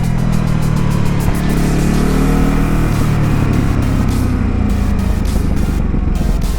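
Ducati Supersport 950 motorcycle engine, a 2019 model, rumbling loud and close with a steady low roar, while crisp crackling pops from backfiring repeat through the first couple of seconds and again near the end.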